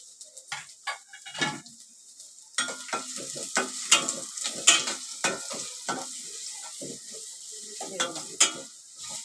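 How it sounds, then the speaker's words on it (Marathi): Onion frying with garlic in a pan for shepu bhaji: steady close sizzle runs throughout, broken by repeated sharp scraping stir strokes and a few spoon taps on the pan. "आता कांदा घालते आणि कांदा भाजला"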